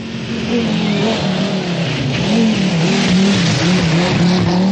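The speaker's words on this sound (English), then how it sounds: "coming home for an excellent third place was Terry Cabey in the Nissan" Nissan rally car racing in the 1985 British Rally Championship in England, engine roaring loudly and steadily with wavering pitch as it drives, close and continuous, with no voices.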